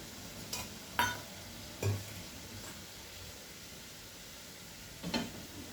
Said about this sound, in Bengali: মশলাটা খুব ভালো করে আমি কষিয়ে নিচ্ছি।